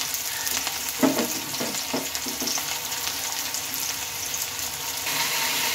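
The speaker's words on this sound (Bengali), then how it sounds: "পেঁয়াজটা অনেকটাই ভাজা হয়ে এসেছে।" Chopped onion fries in oil with cumin and dried chilli, giving a continuous close sizzle broken by a few stirring scrapes, with no talking.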